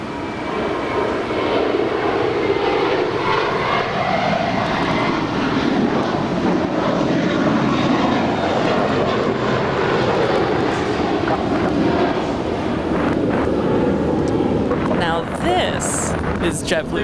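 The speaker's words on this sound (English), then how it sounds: "That is American Airlines Flight 423 coming in from Boston." An American Airlines Airbus A321 arriving from Boston at LAX produces a loud, sustained jet roar with shifting tones as it passes, while people talk over the engine noise.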